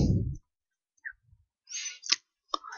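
A computer mouse clicks a download button, a few sharp separate clicks close by in a quiet room.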